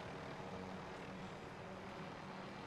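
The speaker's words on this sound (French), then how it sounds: "Je prends l'hélicoptère, je vais chercher le truc." A helicopter in the video game Warzone gives off a faint, continuous rotor and engine rumble that stays steady throughout, with no voices over it.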